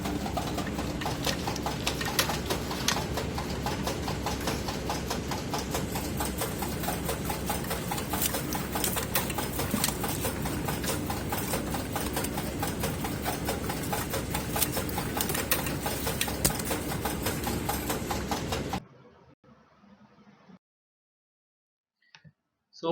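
A factory conveyor carries bundled pill strips past an ultrasonic counting sensor, with a dense, rapid mechanical clatter and whir running continuously at steady volume before cutting abruptly to near silence with a couple of faint ticks.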